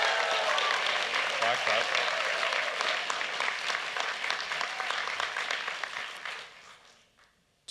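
A large graduation audience at an engineering and IT faculty ceremony claps in dense, steady applause that fades out near the end, with a voice speaking briefly over it.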